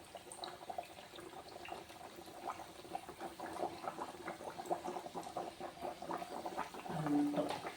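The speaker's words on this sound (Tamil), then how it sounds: "இப்போ வாங்க எண்ணெயில் போட்டு பொரிச்சு எடுத்துடலாம்." Peanut thattai fry in hot oil, giving a soft continuous bubbling patter with small crackles, fairly quiet and without speech.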